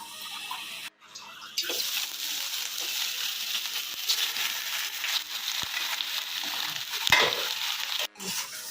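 Chicken and masala dry-toasting in a kadai without oil, a steady scraping stir and light sizzle close by, broken by a couple of brief pauses and occasional clanks of the spoon.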